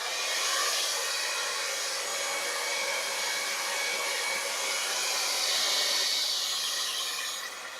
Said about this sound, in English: one more blow dry here